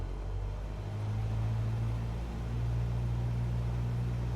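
Cessna 172SP piston engine in Microsoft Flight Simulator 2024, throttled up to about 1800 RPM for a run-up with the parking brake set: a steady, even droning hum that holds constant throughout, with no voices.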